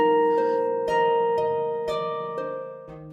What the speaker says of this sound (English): The sound you're hearing is a sonified virus protein.